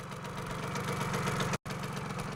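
A 1970s Hercules K50 moped engine idles steadily and close, a continuous rough mechanical drone with a tiny dropout near the end.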